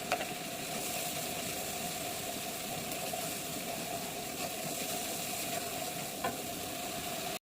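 Ginger garlic paste, a spoonful each of ginger and garlic, frying in a hot pan with a steady sizzle and soft stirring scrapes, close and continuous, with a faint constant hum underneath.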